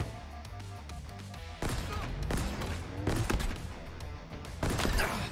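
Loud bursts of gunfire in Halo Infinite, rapid volleys of shots in several clusters over a droning game soundtrack, growing louder toward the end.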